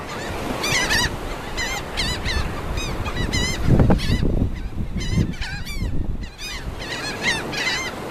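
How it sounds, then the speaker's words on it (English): A flock of geese honks loudly and repeatedly, overlapping calls crowding one another up close, with rustling and scuffling underneath throughout. "Get the birds, Brody."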